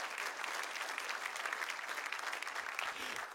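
A church congregation applauds during a French-language sermon, a steady wash of clapping heard from a distance and holding evenly for a few seconds.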